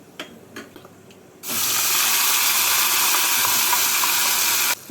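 After a few light knocks, water from a kitchen tap gushes loudly and steadily into the spice grinder jar as it is rinsed, then stops abruptly.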